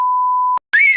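A single loud, pure censoring beep holds steady for about half a second and cuts off abruptly, followed after a short gap by a brief burst of voice.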